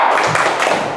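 A burst of group clapping in quick succession, a dense patter of many hands close by over about a second.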